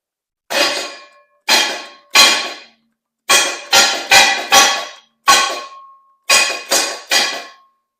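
A Pontiac 400 engine is bumped over by its starter in a series of about eleven short, sharp cranking bursts, some grouped in quick clusters, with silence between them.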